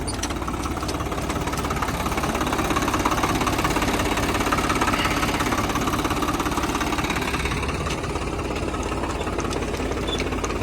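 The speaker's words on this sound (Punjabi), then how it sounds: "ਗਰਨੂਰ ਸਿੰਘ ਚਲਾ ਰਿਹਾ ਟਰੈਕਟਰ" Tractor working a potato field during harvest, its diesel engine clattering and throbbing continuously and loud nearby, with a rattling mechanical knock over a steady rumble and no speech.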